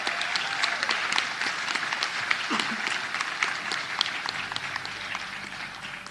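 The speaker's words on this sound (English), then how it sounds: "A round of applause, please." Audience at a Seychelles Tourism Academy graduation ceremony applauding award recipients, a steady, dense wash of many hands clapping that carries through without pause and eases off slightly toward the end.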